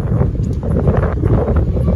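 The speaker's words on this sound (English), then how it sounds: "Honestly, it's windy, but it's not as bad as yesterday." Strong wind buffets the microphone aboard a ship on the open Atlantic after leaving Jamaica, a loud, steady low rumble of gusts with no speech.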